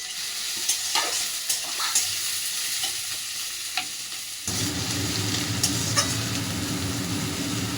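Chopped garlic, onion and ginger fry in a pan for a Bengali egg devil, with scraping stirs at first and then a loud, steady sizzle as more goes in.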